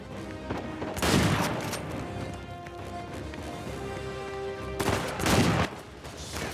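Bursts of gunfire from Uncharted 4 as mercenaries are shot, two dense loud volleys about four seconds apart with quieter ambience and scattered shots between.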